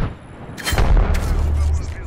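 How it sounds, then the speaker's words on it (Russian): Arc star grenade thrown and detonating in the online shooter Apex Legends: a loud, booming crackle of explosions that swells and lingers for about two seconds, close and forceful. "Бросаю в дуговую звезду."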